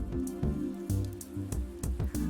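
Rain falling on a street at night in Shibuya in the visual novel game Chaos;Child, a steady patter with scattered drips and splashes layered over a low droning ambience.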